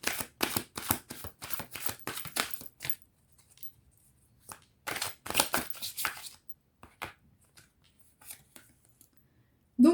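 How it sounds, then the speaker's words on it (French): Tarot cards are handled, shuffled and covered in quick papery bursts of riffling and slapping, close and intermittent, with short quiet pauses between the flurries. "Je vais recouvrir les cartes."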